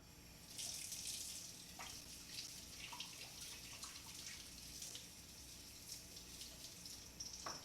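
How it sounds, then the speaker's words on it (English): Steady running tap water splashes into a sink as a radish is rinsed, a continuous close wash with small bursts of spatter and drips and no talking. "Alright, so I'm gonna wash this radish."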